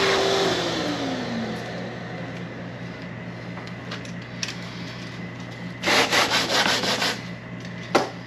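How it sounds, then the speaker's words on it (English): Abrasive sanding on the fiberglass edge of a custom console for a 1967 car, a steady rough rubbing that runs throughout, with louder bursts of strokes near the end. "just take this off and sand that edge"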